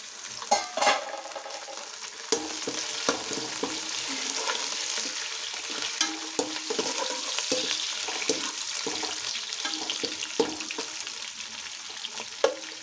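Onions frying in a pan for vegetable biryani, a steady close sizzle with scattered stirring scrapes and clicks running throughout, no talking.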